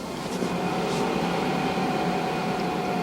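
An HCalory 8KW Toolbox 2s Plus portable diesel heater blowing air during its start cycle, a steady close fan whoosh with a faint tonal hum, alone.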